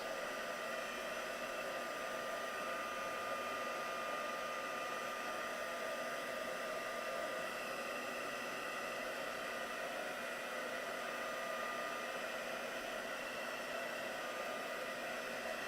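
A heat tool blows steadily, close and unbroken, drying ink on a craft project, with a constant whooshing drone and no pauses.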